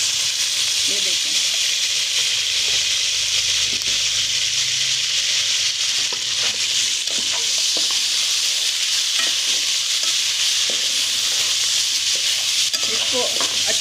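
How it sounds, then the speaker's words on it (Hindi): Chicken frying in a kadai with ginger garlic paste while being stirred, a loud steady sizzle with repeated scraping stir strokes, close and continuous. "इसको अच्छी तरह अब आप भून लें अदरक लहसुन के साथ।"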